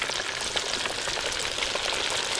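Fish fry in an outdoor pan at a mountain lake, giving a dense, continuous crackling sizzle that stays steady and close throughout.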